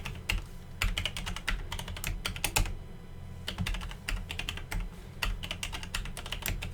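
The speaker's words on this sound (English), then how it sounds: "press shift then insert on your keyboard, enter, then shift again, insert, enter" Rapid typing on a computer keyboard while setting up a MySQL NDB Cluster server on Ubuntu, with quick irregular keystrokes, a brief pause in the middle and a steady low hum beneath.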